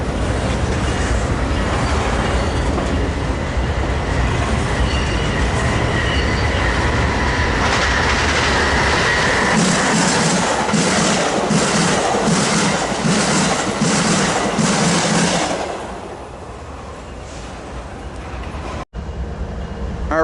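A southbound train heading to San Diego passes close by at Commerce, a sustained loud roar of wheels with rhythmic clickety-clack and some squeal before the sound drops off as it clears.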